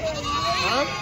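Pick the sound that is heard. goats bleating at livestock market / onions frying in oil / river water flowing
goats bleating at livestock market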